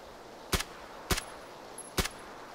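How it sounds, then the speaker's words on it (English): Gunfire in PlayerUnknown's Battlegrounds: three sharp, evenly spaced single shots cracking out loud and clear over a quiet hiss of ambient game noise, with no talk. "somebody shooting at you"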